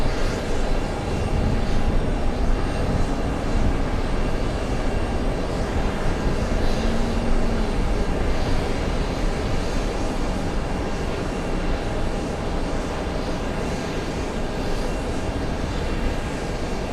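An airliner landing or taking off at JFK airport gives a steady, loud jet engine roar. The broad rumble holds evenly for the whole stretch, with a faint rising whine early on and no voices.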